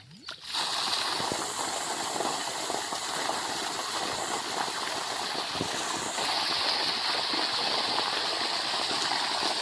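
A large old single-phase 3 HP electric farm water pump runs and discharges water, giving a steady, loud gushing and splashing rush that starts abruptly and continues unbroken, growing slightly fuller partway through.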